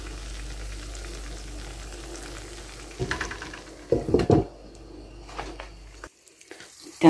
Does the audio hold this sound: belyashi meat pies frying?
yes